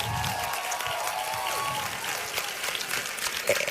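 Audience at a women's health expo live broadcast applauds Dr. Macy P., a continuous crowd clap with scattered cheers and a faint whistle or tone, heard at moderate distance with no clear speech.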